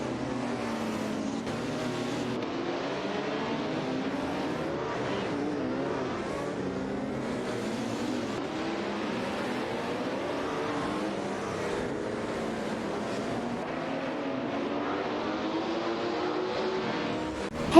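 Race cars in an AI racing video game drone continuously, engine tones rising and falling as they accelerate and shift, a dense steady roar with no gaps for the whole stretch.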